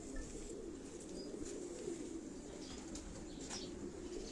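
Pigeons in a breeding cage, soft cooing and occasional wing flutters over a steady hum of background noise, low and fairly distant with no talk.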